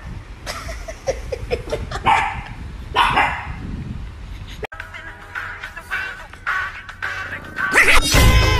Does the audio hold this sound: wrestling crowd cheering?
no